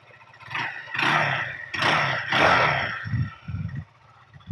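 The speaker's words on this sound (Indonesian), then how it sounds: "Ini untuk suara mesinnya." A Benelli TNT 25 2023, a 250 cc single-cylinder motorcycle, idles and is revved in several short roaring bursts, then settles into a low, lumpy idle, heard up close.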